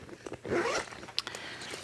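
A zipper on a sewn bag's zipper pocket is pulled in a short rasping run, close and fairly soft, followed by a few small handling clicks and rustles.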